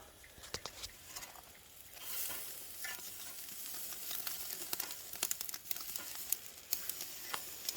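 A steak cooks in a hot pan, a steady low sizzle with scattered crackles and sharp pops that grow busier toward the end, with no talking.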